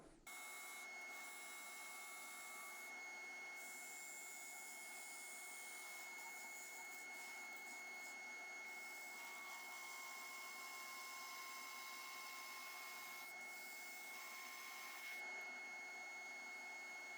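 A vacuum chuck on a wood lathe runs steadily while the bottom of a maple burl bowl with epoxy is finished, a constant faint whine and hiss with a thin high tone throughout.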